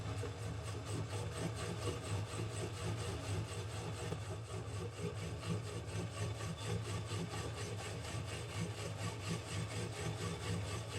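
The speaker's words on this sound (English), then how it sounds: "Turn the boring bar motor on, which is going to turn the cutter head." A motor-driven boring bar cutting the cylinder bore of a Yamaha Blaster, heard as a steady, low, faint machine hum with a fine rhythmic grinding texture running unbroken throughout.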